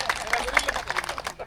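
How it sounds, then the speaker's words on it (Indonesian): Applause from a gathered group at an HKBP church community meeting in a village, a loud burst of clapping with crowd murmur. "tepuk tangan untuk kita semua"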